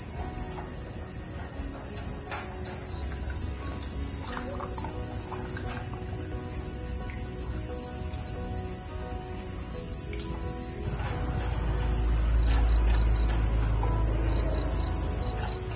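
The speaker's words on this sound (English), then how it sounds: "I like the little hum, the hum of the grasshoppers or the crickets here." Dense, continuous chirping of many crickets at night in the rural Philippines forms a steady high-pitched pulsing drone, with a low rumble and faint other sounds underneath.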